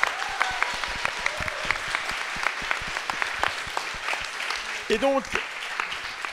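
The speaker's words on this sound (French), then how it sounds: "on applaudit Paul qui bénévolement a fait ça" Audience clapping in appreciation of a volunteer, a steady patter of claps lasting several seconds, moderately loud, with a voice speaking briefly over it.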